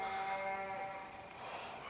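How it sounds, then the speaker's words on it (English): Free-range cattle calling near an old mining district in Spring Canyon above Helper, Utah, a few drawn-out, tonal lowing cries in the first second over steady outdoor background noise, fading after. "We got a bunch of free range cattle over here"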